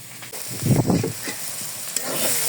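Mustard greens cook in a pan with a soft, close sizzle and a few brief stirring bursts, the frying hiss steady underneath throughout.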